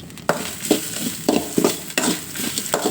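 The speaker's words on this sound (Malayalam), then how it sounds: "തീ കുറച്ച് വെച്ചിട്ട് നമുക്ക് വറുത്തെടുക്കാം" Hot oil sizzles steadily as curry leaves fry while a spoon scrapes and stirs through a pan in regular strokes, about every half second, close and loud.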